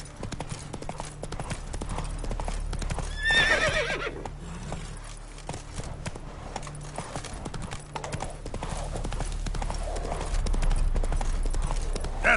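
Roach, Geralt's horse in The Witcher 3, gallops with steady clip-clop hoofbeats throughout and lets out a loud whinny near the start, set over low game ambience.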